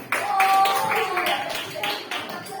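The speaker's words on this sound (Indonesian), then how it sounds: "Tepuk tangan bagi kita semua." Students in a seventh-grade classroom clap their hands together, a loose burst of uneven claps at close range with some chatter and voices mixed in.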